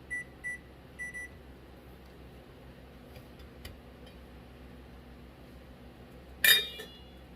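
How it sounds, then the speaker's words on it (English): A kitchen timer is set while elderberry syrup simmers on the stove: a few faint short beeps at the start, then quiet room hum, and a sharp louder beep burst near the end. "I'm going to start my timer."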